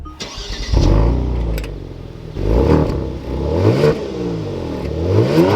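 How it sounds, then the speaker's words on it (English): A 2022 Kia Stinger GT2 RWD engine cranks and fires up loudly, then settles into a rumbling idle with a couple of swelling revs, close and with no talking. "But let's fire up this GT2 with my foot on the brake."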